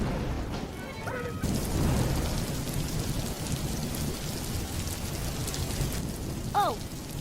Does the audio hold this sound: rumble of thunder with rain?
yes